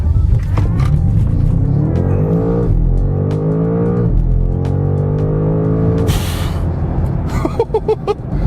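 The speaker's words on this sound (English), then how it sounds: "I love the noise it makes." A 2025 BMW M5 launches hard using launch control, its engine note climbing in three quick rising sweeps through the gears, loud and close from the cabin, followed by a whooshing burst and fading rumble.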